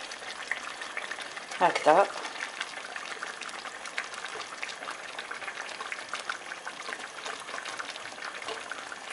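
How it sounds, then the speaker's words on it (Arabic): Chicken breast meatballs simmer in sauce in a pot, giving a steady soft bubbling and sizzling texture throughout, with a brief spoken word near the start. "نرمي لي بولات ديالي تاع الصدر تاع الدجاج اللي درناهم، نوزعوهم هكا في المريقه تاعنا"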